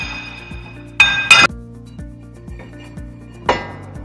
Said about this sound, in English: a bit of tapping with a hammer from the back might be needed